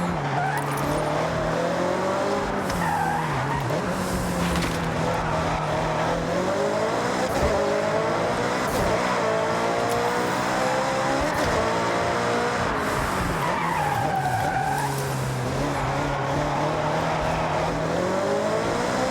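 A supercar races and accelerates in Forza Horizon 6, its engine rising and falling through gear shifts in loud sustained revving, with tires squealing through corners and nothing else over it.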